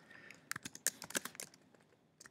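Quick bursts of typing on a computer keyboard, crisp key clicks in uneven clusters, close and fairly quiet with no talking.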